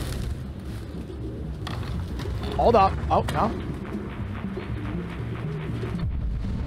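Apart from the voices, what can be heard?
pigeons cooing in Detroit: Become Human video game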